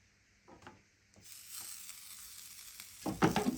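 Homemade lahmacun, flatbread spread with minced meat, cooks in a covered pan, giving a faint, quiet sizzle with soft clinks and a brief louder rustle near the end.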